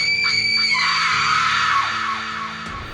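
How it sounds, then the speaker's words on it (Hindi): A woman screams in terror inside a church, one long piercing cry that rises, wavers and trails into an echo before cutting off, loud and alone. "निहारिका की बहुत खौफनाक चीख"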